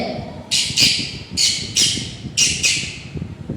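A man imitates a parrot, letting out five or six shrill, harsh squawks in quick uneven bursts, close and loud against a quiet room.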